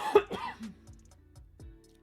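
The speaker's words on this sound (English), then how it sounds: "I swallowed wrong and now I've got like the littlest cough" A small cough from a woman who swallowed wrong, a sharp burst followed by a throat-clearing rasp, close and fairly quiet, with a few soft clicks after it.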